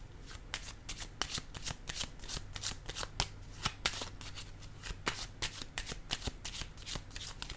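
Tarot cards being shuffled for a card reading: rapid, crisp riffling flicks in a steady run, close and fairly quiet, with no talking.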